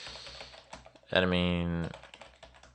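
A computer keyboard clatters with soft, quick key taps while a URL is entered, briefly interrupted by a louder sustained tonal sound midway, with a voice present.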